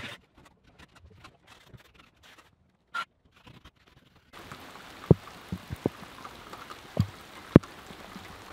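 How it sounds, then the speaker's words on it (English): Rain falls on the roof of a tiny 32 sq ft camper, a faint patter at first that turns to steady hiss with scattered louder drops tapping close by. "The skies have opened up and it's decided to rain on me."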